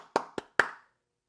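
Three sharp, close hand claps in quick, slightly uneven succession, each with a short decay, followed by silence.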